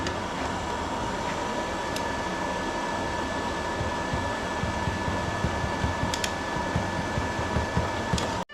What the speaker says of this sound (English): I'm just gonna try to weld again.